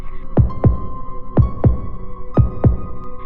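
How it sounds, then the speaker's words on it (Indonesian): A pounding heartbeat sound effect thumps in three deep double beats, lub-dub, evenly spaced about a second apart, loud and close over a low hum. "Degup jantung tak karuan menanti sosok itu masuk ke dapur."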